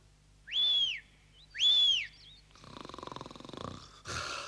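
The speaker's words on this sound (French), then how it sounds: "Il ronfle comme une vraie cheminée." A cartoon character gives a pair of loud whistling snores in a row, followed by rougher, rattling breaths and a snort-like burst, close and clear.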